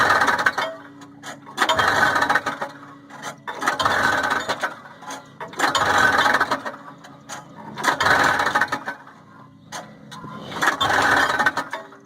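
A moped engine being cranked over repeatedly without catching: six regular bursts of mechanical churning and rattling, each about a second long, separated by short pauses, fairly close and loud.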